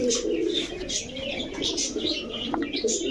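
Pigeons offered for sale, red-geared quality birds, coo in soft repeated phrases with scattered chirps against a continuous low background hum, fairly close and steady throughout.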